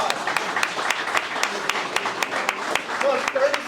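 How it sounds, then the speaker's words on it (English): Audience applause at a Senate candidate forum in a VFW post hall, a modest scattering of distinct claps with a few louder individual hands, while a voice briefly talks over it. "Give him a big round of applause."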